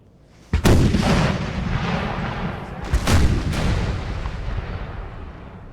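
Artillery guns firing in a Napoleonic-era video game battle, two heavy booming blasts a few seconds apart rising over a continuous rumble of distant gunfire and battle noise.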